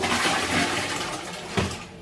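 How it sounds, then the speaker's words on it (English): A toilet flushes in a continuous rushing surge of water, loud and close, with no talk. "Let's give another flush."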